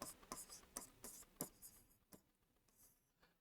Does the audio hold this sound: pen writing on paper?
yes